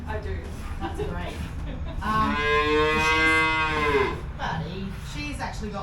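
A homestead dairy cow, one of a small hand-milked herd, gives a loud, drawn-out moo of about two seconds, rising and then falling, close by with a person talking quietly before and after.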